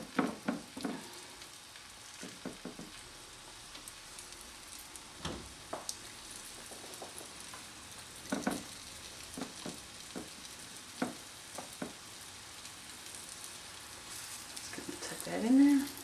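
Fish fillets, bass, sizzle in butter in a pan with a soft, steady crackle, broken by scattered clicks and knocks. Toward the end there is a louder scrape or clatter.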